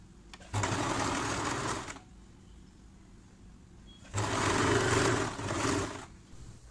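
A sewing machine stitches the side seams of a nightie in two close, steady runs of about one and a half and two seconds, with a quiet pause between them.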